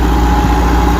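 A tractor engine runs in a loud, steady low drone, close by and unbroken for about a second.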